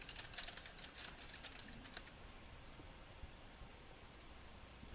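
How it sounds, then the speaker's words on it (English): Faint, rapid typing on a computer keyboard, soft clicks clustered early then thinning out, distant and buried under steady background hiss with no speech. "I can hear you typing"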